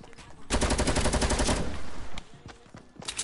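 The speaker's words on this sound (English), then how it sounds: "I'm getting shot by people right now." Rapid automatic gunfire from a Fortnite match, a dense loud burst of shots lasting about a second followed by scattered single shots and bursts, with no talk over it.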